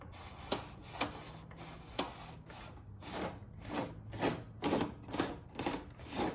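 A Skil TS6307-00 table saw's rip fence slides back and forth along its rail, making a series of dry, rubbing scrapes in uneven strokes, close and fairly quiet, with no talking.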